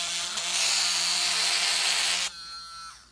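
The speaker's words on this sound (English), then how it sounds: "For that, we're going to be using our sanding wheel." A sanding wheel grinding burrs off a cut Ruger 10/22 bolt makes a loud, continuous abrasive whir for about two seconds, then drops to a softer spinning-down hum.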